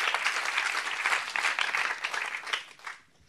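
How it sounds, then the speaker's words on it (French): An audience at a book reading by two novelists applauds, a dense, steady patter of many hands clapping at moderate loudness that fades out quickly at the end. "vous pouvez laisser applaudir d'ailleurs"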